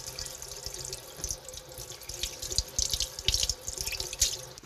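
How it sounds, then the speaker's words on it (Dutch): Celeriac being rinsed under a running kitchen tap, a steady close stream of water splashing and dripping into a sink with uneven spatters as the root is turned, no voices. "Ik ga hem toch al eens spoelen."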